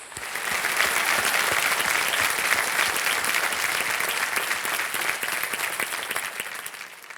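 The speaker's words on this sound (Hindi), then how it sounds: "तालियों के साथ इनका हम अभिनंदन करते हैं।" A KBC Season 14 studio audience applauds a contestant, a full, crisp burst of many hands clapping that swells in after a moment and holds steadily for about seven seconds before easing slightly. No one speaks over it.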